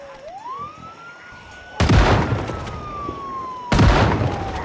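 A single siren tone in the zombie game Project Zomboid slowly rises then drifts downward, continuous and fairly faint, while two heavy booms burst over it.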